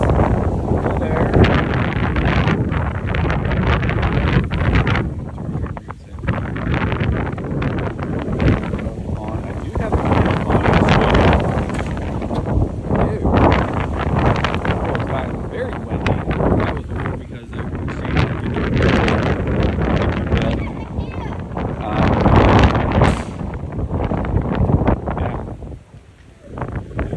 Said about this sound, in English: Very windy, yes.